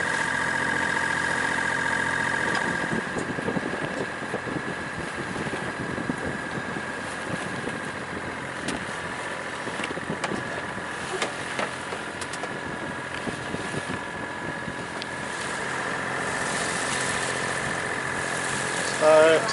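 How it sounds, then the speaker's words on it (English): A sailing boat motors out of the Menai Strait under engine power, its diesel chugging steadily and close for a long stretch beneath wind and water noise. "while we're motoring out of the Straits"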